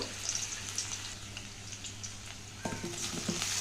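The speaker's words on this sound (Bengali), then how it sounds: "দিয়েছি সর্ষের তেল আর একটু পাঁচফোড়ন দিয়ে দিলাম, আর দিয়ে দেব পেঁয়াজ কুচি, আর এবার দিয়ে দেব সবজিগুলো।" Vegetables fry in hot mustard oil with five-spice in a kadai, a close, continuous crackling sizzle with a louder burst of spattering partway through, no voices.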